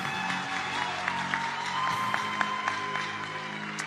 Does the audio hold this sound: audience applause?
yes